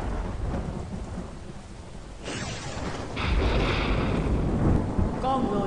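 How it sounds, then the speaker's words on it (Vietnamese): Thunder and heavy rain sound in an animated folk tale, a steady downpour hissing throughout while deep rumbling cracks of thunder surge and roll loudly over it. "sấm sét nổ vang trời"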